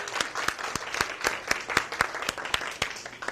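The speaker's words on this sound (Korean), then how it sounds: "박수 주세요" A small audience claps in a fairly regular rhythm, sharp distinct hand claps repeating about four times a second at moderate loudness, with no talking.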